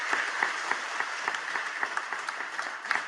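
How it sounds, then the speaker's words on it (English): Students and guests at a school veterans ceremony applaud a veteran with an even, continuous patter of clapping from a sizeable group, heard at a moderate distance with no talk over it. "Round of applause for Smitty, please."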